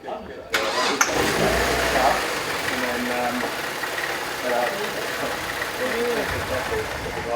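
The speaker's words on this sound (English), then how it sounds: "just lift the bonnet up and listen to the engine" A car engine runs steadily at close range with the bonnet up, a continuous mechanical hum with faint rattling and a loud pulley, starting up after a brief quiet moment, at Oulton Park race circuit.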